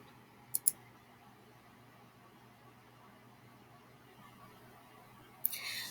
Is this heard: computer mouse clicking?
yes